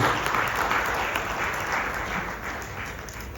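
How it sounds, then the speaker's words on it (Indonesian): Congregation applauding during an Easter church service at Bethany Pakuwon Mall, a steady, fairly faint wash of many hands clapping that holds evenly throughout, with no voices standing out. "Kasih tepuk tangan dulu buat Tuhan Yesus."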